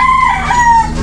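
A Boston Roundhead gamefowl rooster lets out one loud, close crow, the drawn-out call sliding in pitch over about a second.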